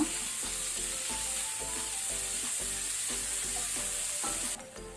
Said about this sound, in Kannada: ಈಗ ಇದನ್ನು ನಾವು ಮೀಡಿಯಂ ಫ್ಲೇಮಲ್ಲಿ ಒಳ್ಳೆ ರೀತಿ ಫ್ರೈ ಮಾಡಿಕೊಳ್ಳುವ